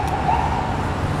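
Ambulance siren on a New York City street, a brief steady wail heard over loud traffic and street noise, fairly close behind.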